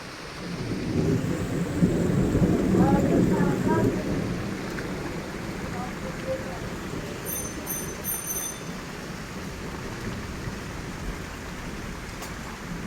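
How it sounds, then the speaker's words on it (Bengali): Low thunder rumbles and rolls beneath steady rain noise, loudest early on and fading into a continuous wash of rainfall. "আকাশ ডাকছে বিদ্যুৎ চমকাচ্ছে"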